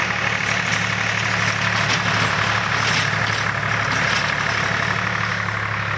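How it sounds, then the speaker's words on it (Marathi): Tractor pulling a rotavator across a wheat field, a steady low diesel drone with rattling machinery noise, continuous and close, with no pauses. "पण बघत आहात खूप छान पद्धतीने रोटावेटर मारणं चालू आहे"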